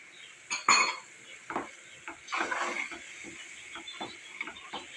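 Ginger garlic paste goes into a pan of cooking cauliflower and potato, bringing scattered spoon scrapes and clinks against the metal pan with a faint sizzle underneath, close and irregular.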